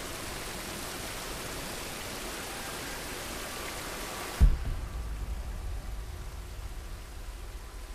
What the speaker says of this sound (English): Now it's through the waterfall.